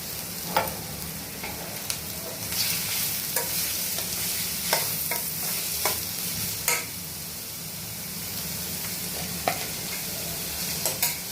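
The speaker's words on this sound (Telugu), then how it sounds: "బాగా కలర్ వచ్చే వరకు వేపుకోవాలండి, బ్రౌన్ కలర్ వచ్చే వరకును" Sliced onions fry in oil in a pan for potato and egg kurma, a steady sizzle broken by repeated sharp scrapes and clinks of a spoon stirring them, with no voices.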